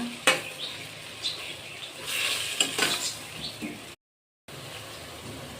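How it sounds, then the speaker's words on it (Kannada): Mint and coriander leaves frying in a pan for kushka, a soft sizzle with clinks and scrapes of a spoon stirring through the greens, briefly cut off near the end. "ನೋಡಿ, ಪುದೀನನು ಕೊತ್ತಂಬರಿ ಸೊಪ್ಪು ಚೆನ್ನಾಗಿ ಫ್ರೈ ಆಗಿದೆ"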